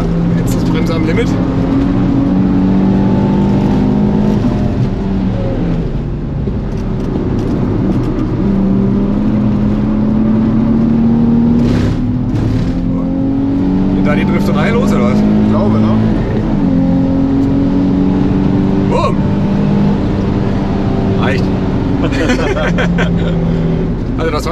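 Car driven hard on a race track, engine droning loudly throughout with rising and falling pitch through shifts and corners, captured close from inside, with talk over the engine.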